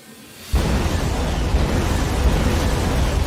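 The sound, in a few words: explosion special effect in the movie Twisted Pair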